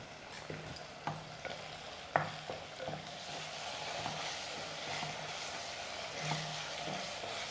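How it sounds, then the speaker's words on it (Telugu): Ginger garlic paste frying in a pan with onions and green chillies, a faint continuous sizzle punctuated by repeated light scraping strokes of a spoon at an irregular pace. "అల్లం వెల్లుల్లిపాయ పేస్ట్ వేపుకున్నాం కదమ్మా"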